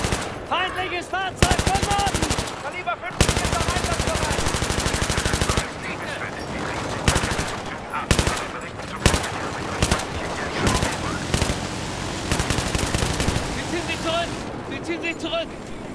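Gunfire from the video game Battlefield 3: loud automatic bursts and single shots rattle in and out, with brief gaps between volleys. Game sounds and voices mix with the shooting.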